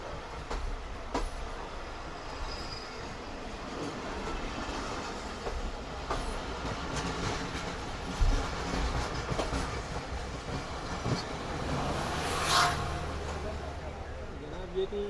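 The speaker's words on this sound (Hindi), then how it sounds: "ट्रेन जो है यहाँ से काफ़ी स्लो गुजर रही है" Pakistan Business Express train rolling slowly over newly laid track joined to the main line, with a continuous rumble, scattered wheel clicks and a brief squeal, while someone talks over it.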